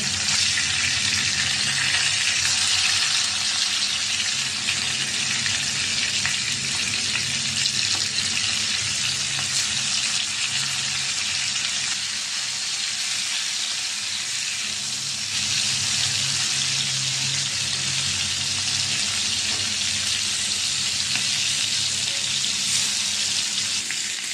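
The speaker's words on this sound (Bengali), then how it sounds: "মাছটা ভাজা হয়েছে, একটা নামাবো।" Nola fish fries in hot oil with a steady, loud sizzle that holds level from start to finish, with no talking.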